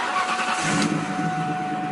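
A car engine cranks and catches, settling into a steady close idle with a faint rising rev partway through.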